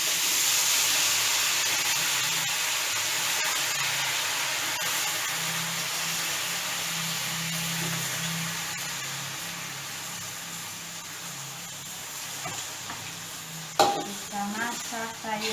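Vegetables hit a hot pot for an Ambon-style yellow fish soup and sizzle and hiss steadily, with stirring sounds throughout and a few sharper clatters near the end.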